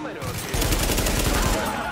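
Sustained automatic gunfire in the video game The Division, loud and dense bursts of rapid shots filling the whole stretch, with a voice talking underneath.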